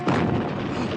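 Bombing explosions in a film, heard as one heavy, muffled boom that hits loud and rumbles on without break for the full second.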